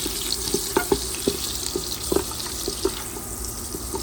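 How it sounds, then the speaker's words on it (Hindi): Cardamom and cloves frying gently in melting butter in a pan for Goan mutton stew, a soft steady sizzle with light clicks and taps from stirring, close and moderately loud, no talk. "अब इसको हम लोग भून लेते हैं, हल्का सा भूनना है बस, बटर मेल्ट होने तक।"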